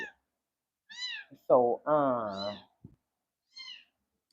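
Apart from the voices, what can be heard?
cat meowing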